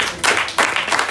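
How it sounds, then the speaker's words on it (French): Audience applause at a church service, a short burst of clapping that swells and pulses briefly, fairly close. "On applaudit encore."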